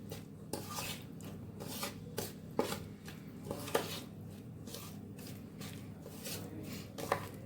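Oil and sugar being mixed together in a bowl for stovetop biscuits, a quiet repeated scraping and rubbing of a spoon against the bowl with a few sharper clinks, close and soft, with no talk.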